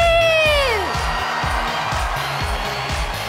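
A Miss Universe pageant crowd cheers and whoops for the Brazil contestant, a loud mass of voices that carries on after a high rising whistle-like squeal at the start fades.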